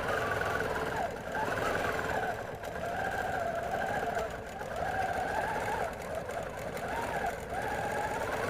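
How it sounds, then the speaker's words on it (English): Sewing machine stitching two layers of fabric for a Halloween vest, a steady close mechanical whirr with a soft rhythmic pulse that keeps running, briefly easing between stretches, with no talk over it. "See how smooth the 19 is in its stitching."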